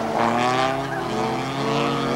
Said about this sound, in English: And the GTV Alpha, followed by the Toyota, going hard and well.